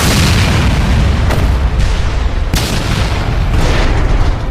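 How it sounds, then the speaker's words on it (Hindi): A huge film explosion erupts as a plane's propeller slams into the ground: a loud, sustained roar with a few sharp booms breaking through, dense and continuous from start to finish. "पंखा जमीन से जा टकराया और एक भयानक विस्फोट हो गया"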